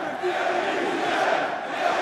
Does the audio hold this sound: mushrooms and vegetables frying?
no